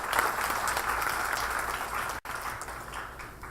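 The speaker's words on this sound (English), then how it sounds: "Please give a big round of applause to them." Audience at an awards ceremony clapping for fellow honorees, a fairly soft, continuous roll of applause that briefly cuts out midway before resuming at a similar level.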